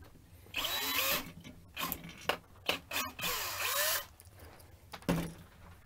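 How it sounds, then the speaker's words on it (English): A power drill spins up in short bursts as its bit bores a hole through plastic while a battery breakout board is being built, whining loudly up close with several starts and stops. "So put my drill bit back in, kind of spot the hole right there"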